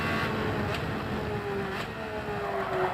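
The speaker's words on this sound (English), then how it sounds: "So do you hear the engine?" A race car engine in Gran Turismo 7 drones and shifts pitch under a steady roar of road and wind noise, with no voices over it.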